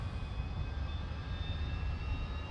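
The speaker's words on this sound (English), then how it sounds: "So we're starting the right engine." Su-25 right jet engine spooling up during startup in the DCS flight simulator, a steady low rumble with faint high whine tones, continuous and fairly quiet.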